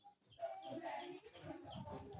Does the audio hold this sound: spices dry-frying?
no